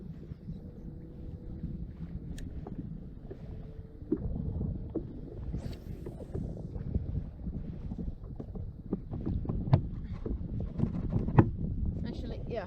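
A fishing kayak is paddled at dusk on open water in the Far North, with soft, irregular splashes and dips under wind noise on the microphone and occasional nearby clicks and knocks, while people talk.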